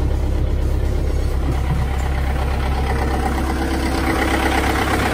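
A Cummins diesel engine fitted in a 1997 Jeep Wrangler TJ idles with a steady, unbroken clatter and drone that holds close and even throughout.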